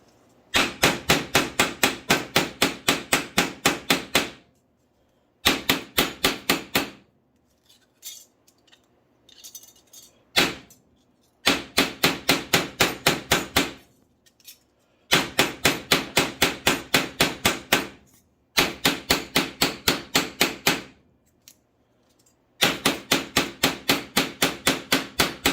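Hammer blows flattening a metal pipe for tin foundry work, loud and close, struck in rapid, steady bursts of about a dozen hits, separated by short pauses with faint clinks and shuffling.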